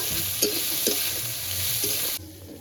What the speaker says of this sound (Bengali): কাঁচা লঙ্কাটা দিয়ে দিলাম সঙ্গে আগে থেকে কেটে রাখা ওই যে থানপানি পাতা সব কিছু এবার হালকা করে একটু ভেজে নিচ্ছি